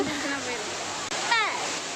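Water pours down at Courtallam waterfall with strong flow, a steady rushing wash heard beneath voices and a brief interruption midway.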